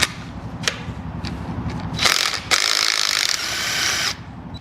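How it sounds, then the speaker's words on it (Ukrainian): Bolts are driven into the handlebar of a KOVI 300 Lite F motorcycle with a tool, giving a few metallic clicks and then two sustained whirring, ratcheting bursts close by. "ми просто беремо ці болти і прикручуємо"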